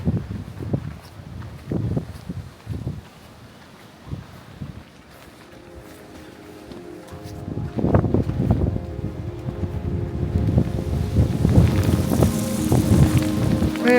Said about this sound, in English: it's just big hail bouncing off my face again